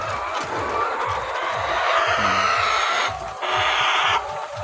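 Laying hens on a layer poultry farm cluck in a dense, continuous chorus, with repeated short calls overlapping steadily at close range and no voices present.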